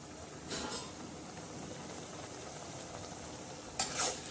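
Moong dal cooking in a pan for a mixed spinach and dill dish, a faint, steady low bubbling sizzle with a couple of brief stirring scrapes near the start and end.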